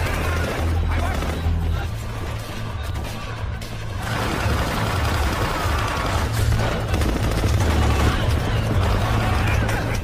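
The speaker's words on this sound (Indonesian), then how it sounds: "Lalu Jack sengaja melepaskan tembakan agar kedua kubu panik dan saling baku tembak." A gunfire exchange in an action film: dense, overlapping shots and automatic bursts rattle continuously and loudly throughout, with crashes mixed into the chaotic firefight.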